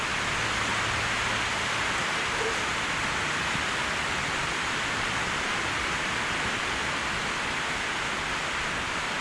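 Heavy rain pours down in California in a dense, unbroken hiss, loud and constant throughout, with no distinct drops standing out from the roar.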